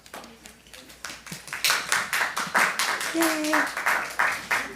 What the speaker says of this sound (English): That was a sincere clap.